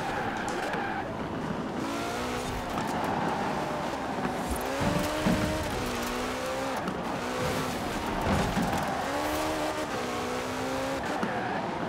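Ferrari LaFerrari racing in Forza Horizon 4, with a steady loud engine note that rises and falls through gear changes and brief tire squeal in corners, running continuously with no talk.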